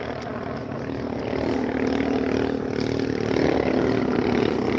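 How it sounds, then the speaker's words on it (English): A group of motorbikes passes near a parking lot at Santa Fe Dam, producing a loud, sustained engine drone that swells slightly and stays steady throughout. "Sorry about that noise. Some guys on motorbikes."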